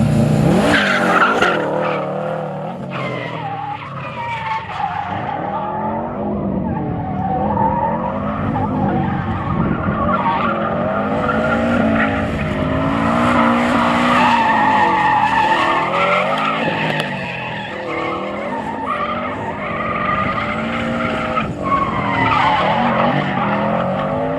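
A car with a naturally aspirated 2JZ engine skids with long, wavering tire squeals that rise and fall continuously, loud and close, under a revving engine.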